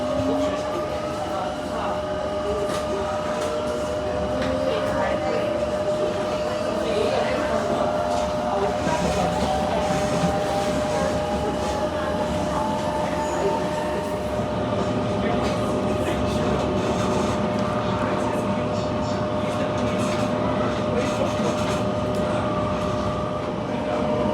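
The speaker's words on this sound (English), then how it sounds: "would be my train heading home and was again one of the newer CAF trains which used to operate on the Rome Metro" A newer CAF metro train, formerly run on the Rome Metro, rolls along with a steady, continuous rumble and a faint high whine throughout, heard from on board at close range.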